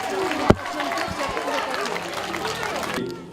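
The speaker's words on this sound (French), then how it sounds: "Allez, on peut les applaudir." An audience applauds a nursery school children's performance at a 2014 Corsican language week event, a broad crackle of clapping mixed with crowd chatter and a sharp knock near the start.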